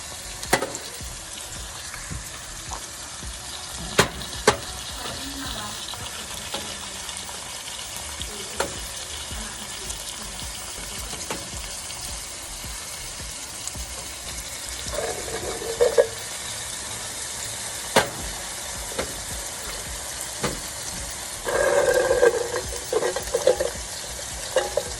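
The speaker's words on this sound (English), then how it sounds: "pour the chickpeas into the pot with your fried up vegetables" Steady frying sizzle fills the pot as chickpeas are added to fried vegetables, with scattered clinks and scrapes of stirring and a couple of brief louder bursts.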